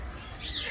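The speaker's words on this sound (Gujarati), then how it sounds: "આ તો ઘણા પોપટ છે જો કેટલા બધા પોપટ છે" A mountain parrot at Baroda zoo, Sayaji Baug, gives a sharp nearby squawk, one brief loud call.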